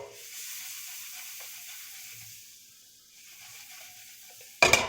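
Chopped onion goes into a pan already cooking tomatoes for butter chicken: a faint hiss fades low, then a sudden loud burst of sizzling erupts at the very end.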